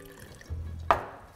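Splash of water poured into a jar of cornstarch, a short low pour followed by one bright splashy burst, close and alone with no talk.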